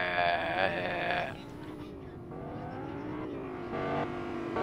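Car engine in Fortnite droning steadily with shifting revving tones over several seconds, with a voice talking over it.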